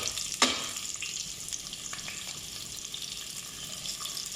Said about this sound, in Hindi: अब हमें ओनियन को फ्राई करना है लाइट गोल्डन कलर आने तक